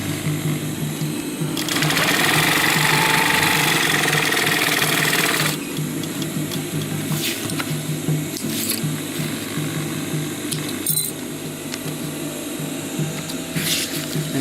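A sewing machine stitches a fanny pack, running steadily and close throughout, with a louder, busier burst of stitching early on before settling into a softer continuous hum.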